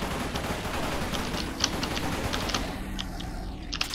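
Rapid, continuous automatic AK rifle fire in a video game, loud and dense throughout with sharp repeated shot cracks and no talk over it.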